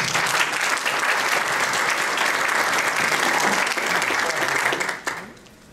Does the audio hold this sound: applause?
yes